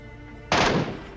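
A single loud gunshot burst in the battle royale game PUBG, knocking down an enemy player; a sharp broadband blast after half a second of quiet, decaying with a rumbling tail.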